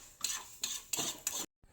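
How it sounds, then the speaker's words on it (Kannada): Spices with a few black peppercorns being stirred and fried together in a pan, four brisk, evenly spaced scraping strokes of the spoon heard up close with a faint sizzle underneath and no talking. "ಎಲ್ಲನೂ ಒಟ್ಟೆ ಹಾಕೊಂಡು ಒಳ್ಳೆ ಮಾಡಿ ಫ್ರೈ ಮಾಡ್ಕ"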